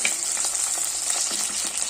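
Garlic, green chili and curry leaves fry in a pan for gooseberry pickle, a steady close hissing sizzle with faint crackles and light stirring scrapes throughout, no voices.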